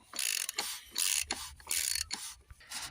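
A ratchet loosening the oil filter housing on a Volvo V70 D4 five-cylinder diesel, rapid clicking bursts in an uneven back-and-forth rhythm, close up.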